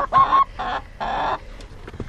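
Chickens in a chicken house cluck nearby in three loud, drawn-out bursts followed by softer clucks, close and clear.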